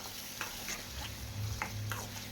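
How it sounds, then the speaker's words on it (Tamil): Coriander and curry leaves sautéing in hot oil for a biryani-style dish, giving a soft steady sizzle with a few scraping stirs of a spoon against the pan, close and moderately quiet, no voices. "இதுலேயே மல்லியும் கருவேப்பிலையுமே சேர்த்து நல்லா கொஞ்சம் வதக்கி விட்டுக்கலாம்"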